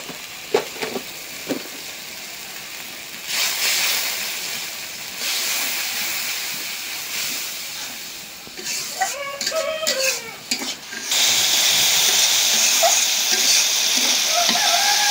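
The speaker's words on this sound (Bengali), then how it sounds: "মশলা ভালো করে কষাই নিলাম।" Turmeric, chili, coriander and cumin powders fry in a pan over a clay stove, with close, irregular scrapes and stirs over a steady sizzle that grows louder and denser toward the end.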